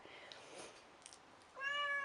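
Cat in a living room giving one clear rising meow near the end, after a quieter stretch of faint indoor sounds and soft movement.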